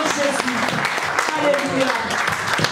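A congregation at a Christian worship service claps in steady, dense applause, with voices speaking and calling out over the clapping.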